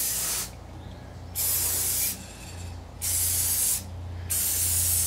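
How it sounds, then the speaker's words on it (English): Gloss polyurethane is sprayed onto a wooden chair in bursts, three loud hissing passes separated by short pauses, with a low mechanical hum continuing underneath. "gloss poly, and Tyler is now putting some coats on there"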